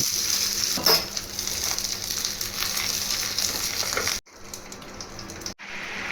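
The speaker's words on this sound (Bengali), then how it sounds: "একটা ফ্রাই প্যানে আমি তেল দিয়ে দিয়েছি। এই তেলের ওপরেই কলা পাতাটা বসিয়ে ঢাকা দিয়ে দেবো।" Steady, close sizzling of a banana leaf in hot oil in a covered frying pan, crackling continuously for several seconds, broken by two brief moments of near silence near the end.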